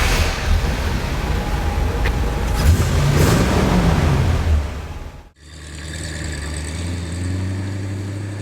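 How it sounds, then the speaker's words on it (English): A 1966 Corvette Stingray second-generation coupe turns over and fires, its engine rumbling loudly for about five seconds, then a brief cutoff before it settles into a steady, deep idle. "all it really takes to get going is just a twist of the key"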